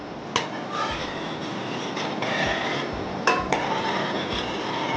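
A spoon stirs kolang-kaling palm fruit with pandan leaves in a pot of heating water, giving a steady clattering scrape with a few sharp clinks against the metal.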